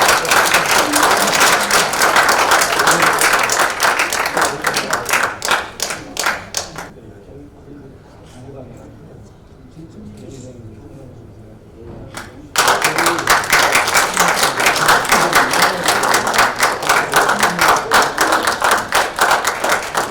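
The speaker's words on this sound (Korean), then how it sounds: "큰 박수로 축하해 주시기 바랍니다." Clapping at a Korean civic forum award ceremony honoring a merit medal recipient, dense and loud for about seven seconds, then a quieter stretch with faint murmuring, before a second full burst of applause resumes to the end.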